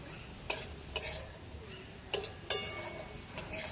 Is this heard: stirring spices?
yes